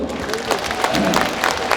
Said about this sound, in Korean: 우리 군수님 박수 한번 줘요